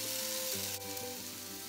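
Steady sizzling of chicken seekh kebabs on a hot preheated Ninja Foodi grill, loud and close, a continuous hiss with a faint hum beneath and no talking.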